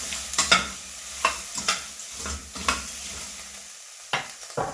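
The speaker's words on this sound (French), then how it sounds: "On continue à mélanger." Langoustine carcasses and vegetable garnish are stirred in a hot pan for langoustine risotto, with a series of sharp spoon scrapes over a crackling sizzle that briefly drops out before more stirring.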